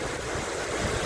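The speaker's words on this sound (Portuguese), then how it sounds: "E está ventando muito aqui, ó." Strong wind gusts roar steadily across an outdoor hilltop overlooking a town, buffeting the microphone with continuous low rumbling noise and no voices.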